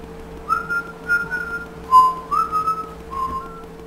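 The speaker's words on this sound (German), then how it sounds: "Luigi, warum pfeifst du nicht normal" Luigi whistles in the video game Weegee's Hidden Mansion, a bright tune broken into short, separate whistled phrases that rise and fall over a faint steady hum, with no talking.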